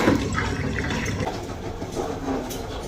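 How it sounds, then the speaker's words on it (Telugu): Petrol pouring into a motorbike fuel tank, a steady close liquid gush with a hollow filling splash that runs unbroken for about three seconds, with no talk over it. "ఇదే మామ నిన్న తెచ్చుకున్న పెట్రోల్ 1 లీటర్ 100 రూపీస్కి పట్టించా అంతే"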